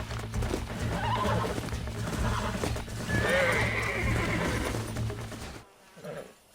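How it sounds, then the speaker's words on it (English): A horse in the video game Red Dead Redemption neighs and whinnies loudly while hooves clip-clop in a steady rhythm nearby, then the sound drops away near the end. "We got some fine horses."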